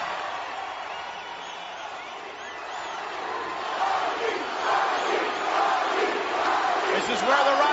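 A hometown crowd in a South Florida wrestling arena cheers for The Rock, a broad roar of many voices that swells louder over the second half and stays continuous throughout.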